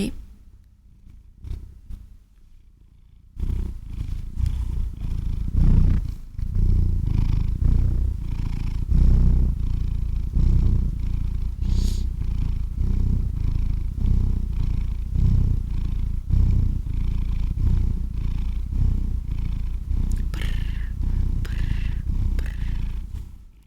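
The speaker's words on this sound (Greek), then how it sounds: "Βάλτε στο μικρόφωνο να γουργουρίζει, να με πάρει ο ύπνος" A cat purring right up against a microphone, a deep, steady, rumbling purr that runs loud and continuous for about twenty seconds after a brief quieter start.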